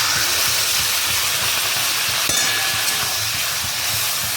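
Water goes into a pan of potatoes and coconut frying with spices, producing a loud, dense, steady hiss and sizzle that continues throughout, with a faint clink near the middle and no speech.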